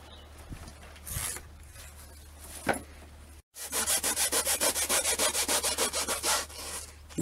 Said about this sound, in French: l'astuce pour couper la mousse, une lame de scie à métaux